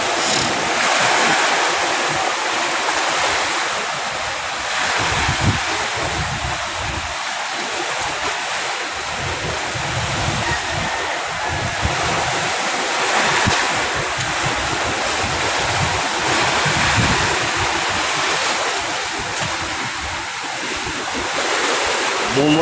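Rough surf on Manila Bay off Navotas during the habagat monsoon crashes and churns in a constant loud wash, with wind buffeting close by and waves rising and falling in uneven surges.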